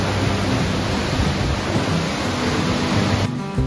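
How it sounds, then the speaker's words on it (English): A mighty waterfall in the Liechtenstein Gorge near Salzburg roars as a dense, unbroken wall of rushing water, loud and close throughout, fading slightly at the end. "it all culminates into the beautiful mighty thunder of the waterfall"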